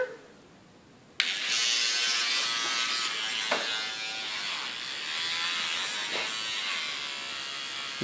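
An electric toothbrush buzzes steadily while someone brushes their teeth, starting abruptly after a quiet moment and droning close and continuous throughout.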